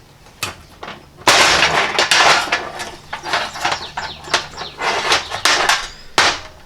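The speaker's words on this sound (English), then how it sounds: "this one has the 2 holes at the back, which also have to be punched out" Sharp metallic hammer strikes punching holes in a horseshoe in irregular bursts, some single blows and some rapid clusters, ringing loudly up close with brief pauses between.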